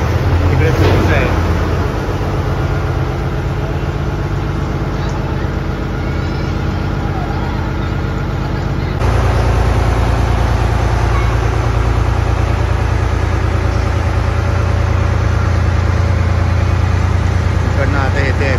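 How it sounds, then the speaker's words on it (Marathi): A ferry crossing a river in Goa with a motorbike aboard sets up a steady low engine drone that runs for the whole stretch and rises slightly partway through, with voices talking now and then over the hum. "निघाली बोट मित्रांनो. हे गोराईला कशी फेरीज आहेत तसे फेरीज आहेत."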